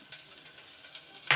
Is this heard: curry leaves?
yes